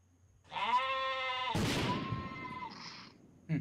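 A single drawn-out video-game sheep bleat, loud and close, with a harsh, noisy explosion breaking in partway through, then a short thump at the end.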